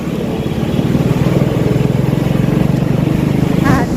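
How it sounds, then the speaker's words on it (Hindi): A motorcycle engine runs steadily close by as the bike is ridden into a mall parking lot in Raipur, a loud pulsing low drone with a rhythmic throb. "हम अभी जाते हैं पार्किंग करे बर बाइक ला"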